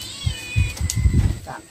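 A cat meows a few times, close and loud, in short rising calls over low murmuring voices.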